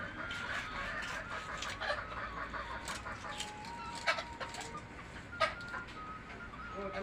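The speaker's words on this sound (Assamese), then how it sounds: "এই মুৰ্গীবিলাক ইমান ডিষ্টাৰ্ব কিয় কৰে" Domestic chickens cluck quietly in a home setting, with soft intermittent calls and a couple of sharper, louder clucks near the middle. No one talks.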